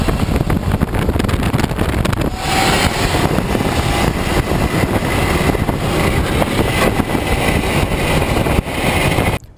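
An electric car at highway speed gives a loud, steady roar of wind and road noise from inside the cabin that continues without a break.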